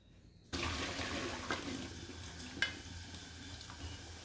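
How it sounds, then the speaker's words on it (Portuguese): Cold water gushes from a tap into a pot of rice in a home kitchen, a sudden steady splashing pour that begins abruptly and continues with small sloshes. "Agora eu vou acrescentar água fria"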